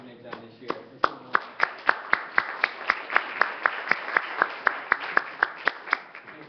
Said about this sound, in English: I want to just take a moment to give a big round of applause once again to the entire HESA team